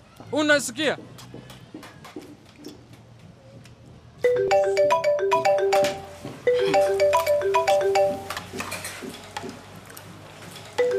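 Mobile phone ringtone plays in repeated melodic bursts, close and clear, separated by short pauses, after a brief stretch of voices talking.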